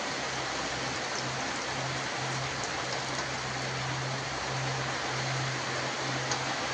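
Palm fruit fritters fry in hot oil, a steady close, dense sizzling hiss that stays even throughout, with no talk.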